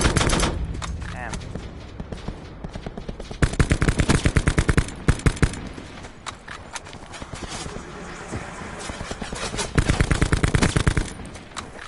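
Gunfire in the video game Call of Duty: Black Ops 4 Blackout battle royale comes as rapid automatic bursts, close and loud, with repeated volleys and brief pauses between them.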